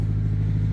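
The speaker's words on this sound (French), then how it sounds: "C'est le bruit d'un camion." A passing truck's engine on the road, heard outdoors as a steady low rumble with a strong droning hum, continuous and fairly close for a brief moment.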